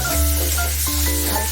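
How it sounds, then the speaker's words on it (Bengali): Spice masala with turmeric and salt for a bitter gourd dish frying in a pan, a steady close sizzle with a low hum running underneath and faint stirring scrapes, no voices. "এটাকে একটু মশলাটাকে একটু ভাজা ভাজা করে নেব"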